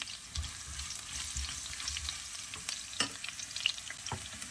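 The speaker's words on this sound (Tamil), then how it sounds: "கடுகு பொரிஞ்சு வரைக்கும் 2 பச்சை மிளகாய், அதோட 2 உள்ளி, அதையும் இதோட சேர்த்து பொரிய விடுவோம்" Mustard seeds, green chillies and garlic fry in hot oil, giving a steady close crackling sizzle with scattered sharp pops and no voices.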